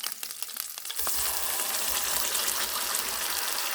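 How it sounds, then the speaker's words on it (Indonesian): Ground spice paste for squid gulai hits a hot pan with a loud burst of sizzling that settles into dense, continuous frying, close up after a few quieter stirring clicks, with no voices. "ini kita tumis semuanya bumbu halus sampai benar-benar matang"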